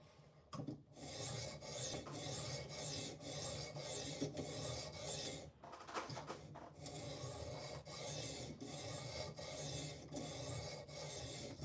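A knife blade is drawn across PDT USA sharpening stones in repeated rasping strokes, each pass a dry, gritty scrape with brief pauses between, close and clear with no talking.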